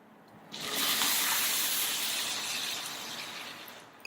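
Two cups of water pour into rice cooking for Mexican rice, a loud splashing gush that starts abruptly, holds steady, then tapers slightly near the end, with no talk.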